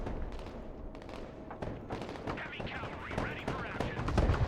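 Gunfire and explosions rattle through a Warno real-time strategy battle, with rapid bursts and heavier booms over a dense, continuous battle din that swells toward the end.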